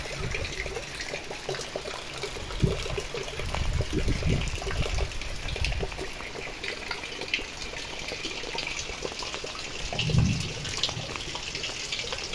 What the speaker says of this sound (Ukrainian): Набирається бочечка мені на полив